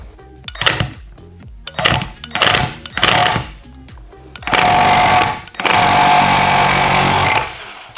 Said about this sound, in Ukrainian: Спробуємо десятку забити.